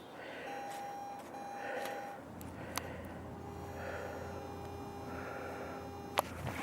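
A metal detector sweeping over a buried penny in an Alaskan seaside park gives faint, steady electronic tones, first a higher pitch held in two bursts, then a lower sustained tone over quiet outdoor background.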